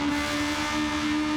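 A kei car engine in Gran Turismo 7 holds a steady high, buzzy revving note, loud and close throughout a short stretch with no talk.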